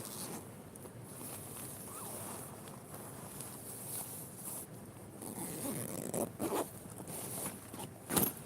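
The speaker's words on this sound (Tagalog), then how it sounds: "Daming zipper." Zippers on bags at a secondhand clothing pile in Kuwait are pulled open and shut, soft scratchy runs giving way to several sharper quick zips near the end, fairly faint and close, with no talk.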